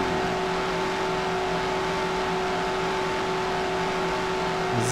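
Loud, steady car engine drone in the video game Mafia, with a constant tonal whine, sustained and unchanging throughout, with no talking.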